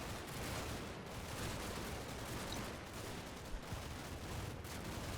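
Dense, continuous battle noise of rifle and machine-gun fire with scattered heavier bursts in Combat Mission Red Thunder, filling the whole stretch at a steady loud level without any voices.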